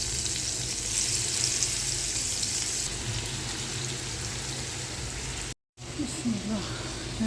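Prawns frying in a pan give a steady, close hiss and crackle that runs throughout, cut off by a brief moment of silence near the end, then resume with faint handling noise.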